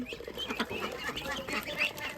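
Ducks quack and cluck softly in a busy flock eating rice, with scattered dabbling and pecking noises throughout, fairly close and steady.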